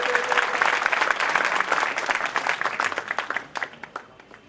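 Loud, dense clapping from an audience at a tehsil-level Prajapati talent-honouring ceremony, steady at first and then breaking up into scattered individual claps as it fades out.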